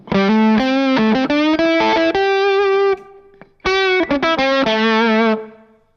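Electric guitar played through a Rufus fuzz pedal with a touch of Big Sky reverb: loud, thick distorted notes and sustained chords in phrases, a brief pause, then more fuzzy lines fading out at the end.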